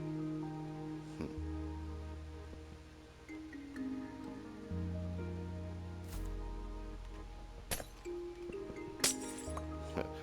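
Glass blocks clinking and breaking in Minecraft, a few sharp bright chinks scattered over several seconds against soft sustained background music.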